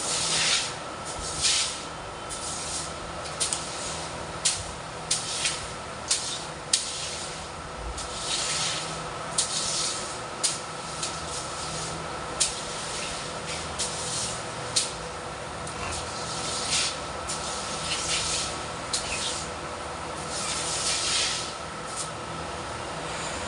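A room floor being washed by hand, with repeated wet scrubbing and swishing strokes at close range and steady hiss-like water noise throughout, no voices.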